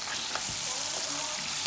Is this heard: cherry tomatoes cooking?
yes